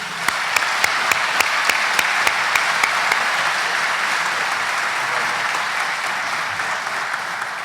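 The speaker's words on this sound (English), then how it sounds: "let's give one more round of applause" An audience at a chamber of commerce annual meeting applauds to welcome the new mayor, giving steady, loud sustained clapping from a large crowd throughout.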